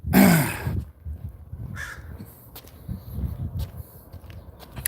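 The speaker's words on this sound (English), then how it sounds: "crow." A single loud, harsh crow caw right up close at the start, then softer outdoor ambience with scuffing footsteps and faint rustling, no talk.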